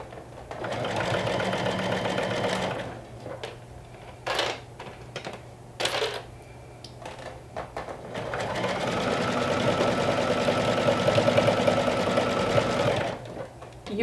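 A sewing machine stitches a stretchy top with elastic, running in bursts with short stops and quick reverse back-stitching, then a longer steady run near and clear with no talk.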